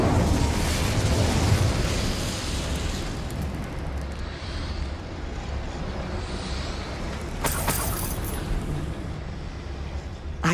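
Incendio fire spell cast in Hogwarts Legacy, a loud whooshing, rumbling burst of flame that roars over the first seconds and then sustains as a dense crackling blaze, with a brighter flare near the end.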